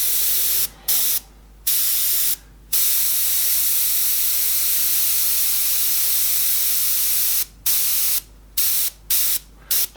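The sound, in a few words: airbrush spraying paint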